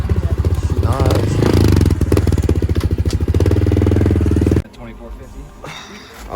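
A Honda CRF110 motorcycle with an FMF exhaust running close and loud, a fast thumping exhaust burble with revving, then cutting off abruptly to quieter ambient sound, with a voice talking over it.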